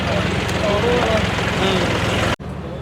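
A Dashmesh combine harvester engine gives a loud, steady drone with a low rumbling hum that runs without pause, then cuts off abruptly near the end, leaving quieter background.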